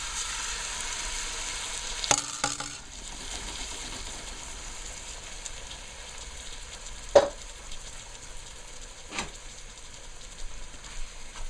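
Freshly ground seasoning sizzles and fries steadily in a pot for katahar curry, with a few sharp clanks of a spoon against the pot over the continuous hiss.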